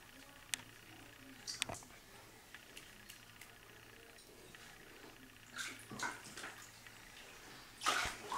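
A young child splashes in bathwater at home, with scattered soft slaps and splashes at irregular intervals, a couple of louder bursts near the end, all fairly faint and close.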